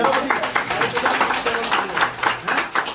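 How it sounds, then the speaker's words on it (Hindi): A crowd clapping at a protest by the Karmayogi organisation over problems at Bangur hospital, with rapid, fairly close hand claps mixed with voices talking. "जोरदार ताली बजाओ भैया।"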